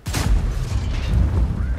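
In World of Tanks, an SU-152 tank gun fires once with a sharp, heavy boom, followed by a deep rumbling echo that lingers close and loud without speech.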